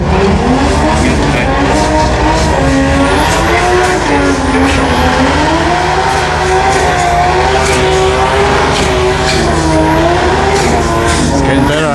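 Race car skidding at Willowbank Raceway during a drag racing jamboree finals day, a loud sustained engine roar with squealing tyres and rising rev sweeps, continuous crowd and commentary noise underneath.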